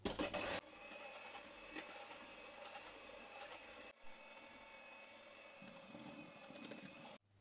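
Electric mixer whirring steadily as it beats sponge cake batter with added vanilla sugar, a faint continuous motor hum with brief louder bursts at the start and end.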